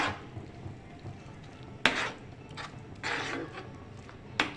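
A flour and milk mixture stirred quickly in a pan, with soft scraping and a few sharp utensil knocks against the metal over a low hiss.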